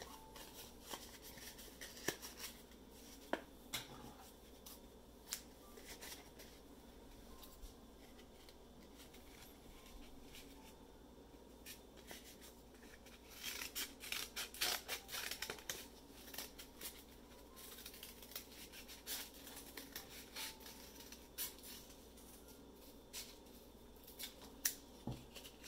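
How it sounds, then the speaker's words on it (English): Scissors cut a heart shape out of a flattened cardboard toilet roll tube at close range, a steady run of faint snips and crinkly rustles with a few louder cuts in the middle, and no talking. "we're going to cut a heart out of it."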